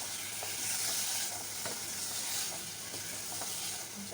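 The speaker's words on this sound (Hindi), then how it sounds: "ये मैं अब आलू डाल देंगी। आलू को चढ़ा के खूब अच्छे का मसाले लपेट के आलू।" Boiled potatoes fry in spiced masala for khattay aloo, a steady loud sizzle with faint stirring scrapes throughout and no talking.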